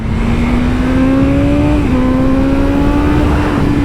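A BMW M 1000 RR superbike engine revs steadily and loudly up close, the pitch climbing with brief dips as it shifts, with no voices.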